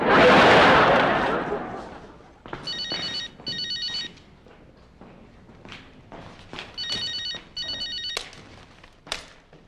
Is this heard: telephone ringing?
yes